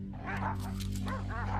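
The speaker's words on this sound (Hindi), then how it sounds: "शिकारी कुत्ते" Hunting dogs bark and yip in the wild, a few sharp, overlapping barks close by over a low, steady rumble.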